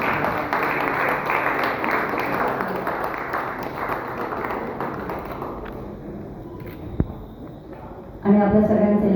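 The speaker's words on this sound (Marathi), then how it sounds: "टाळ्या थांबवायला पाहिजे" Dense applause from an audience at a journalists' association felicitation ceremony, a steady clapping wash that thins out toward the end before a voice speaks.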